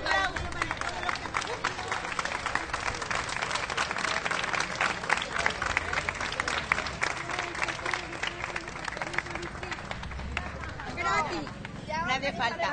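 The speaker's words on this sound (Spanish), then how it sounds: "Un aplauso también para nosotras que estamos aquí." A crowd at an outdoor rally to save the Cine Rex in Murcia applauds, a rapid, continuous patter of many hands under crowd noise and voices, slightly distant and fairly steady before tapering near the end.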